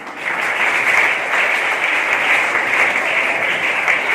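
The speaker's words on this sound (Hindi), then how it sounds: "तो उनके लिए तालियां होना चाहिए कि नहीं" Sustained audience applause at a school engineering day ceremony honouring former students, a dense, steady wash of many hands clapping at full volume throughout with no talk over it.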